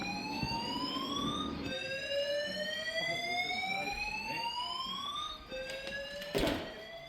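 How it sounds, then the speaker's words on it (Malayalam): A building fire alarm sounds continuously during an evacuation, a loud rising electronic whoop that repeats in long sweeping cycles, with a few brief knocks near the end and no talking. "ഫയർ അലാം അടിച്ച് എല്ലാത്തിനെയും എവാക്യുവേറ്റ് ചെയ്തു"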